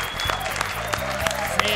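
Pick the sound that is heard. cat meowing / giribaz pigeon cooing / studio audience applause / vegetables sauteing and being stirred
studio audience applause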